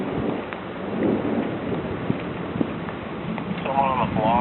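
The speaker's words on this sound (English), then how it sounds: "It's kind of the same, but it's still thunder and lightning." Thunder rumbling during a lightning storm in Vancouver, Washington, with rain falling, low rolling booms and a couple of sharp cracks; voices murmur briefly near the end.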